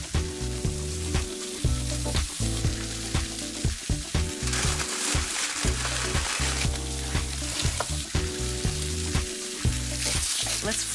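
Meats and vegetables, including corn, sizzle on a grill in a loud, dense crackle with frequent sharp pops and hisses, close up and steady throughout, no voices.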